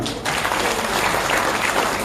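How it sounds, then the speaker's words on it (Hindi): Loud applause fills an indoor hall at a lovebird society show in a Karachi hotel tower, a dense steady clapping from the audience that starts abruptly and continues without a break. "इसके लिए भी एक बार जोरदार तालियां"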